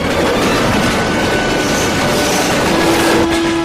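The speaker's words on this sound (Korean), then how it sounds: "블라디보스톡을 출발 모스코바로 이어지는 시베리아 횡단철도." Trans-Siberian Railway train running steadily on the tracks between Vladivostok and Moscow, a loud continuous rumble of wheels and carriages with a faint high squeal near the end, no voices.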